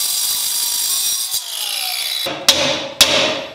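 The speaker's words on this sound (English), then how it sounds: "So I'm gonna grind through this." Grinder cutting through a Mexican-made leaf spring, a loud high whining screech that fades as the tool winds down, followed by two sharp metallic knocks.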